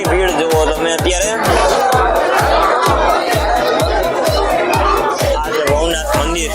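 Dense crowd of people at Bhavnath temple during Maha Shivratri, a steady wash of chatter and voices with a regular pounding drum beat running throughout, loud and close.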